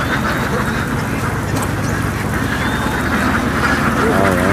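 A huge flock of about ten thousand ducks quacks as it runs across the fields toward a long pen: a loud, continuous, overlapping chorus of quacks filling the whole stretch with no pause.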